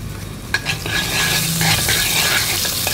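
Salt sautéing in hot coconut oil in a pan, a steady close sizzle and frying hiss with a few stirring scrapes and clicks near the start, no talking.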